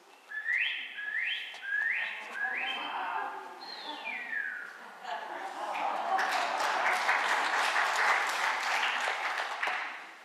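A person whistles an imitation of a shining cuckoo call, a series of four rising upslurred notes followed by a longer descending note, then applause breaks out from a crowd indoors.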